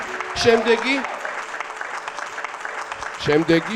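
An audience applauds on a Georgian television talent show, a steady patter of clapping that runs beneath voices speaking at the start and the end.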